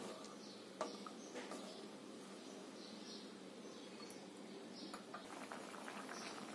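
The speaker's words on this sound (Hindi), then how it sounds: "और अब इसमें उबाल आ गया है" Cabbage and chickpea sabzi with a cup of water coming to a boil in a pot over a high gas flame, a faint, close bubbling and soft popping that continues steadily.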